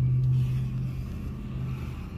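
An original Nissan 240SX coupe drives past, a steady mid-level engine hum with a low tonal drone that holds and eases slightly as it moves by.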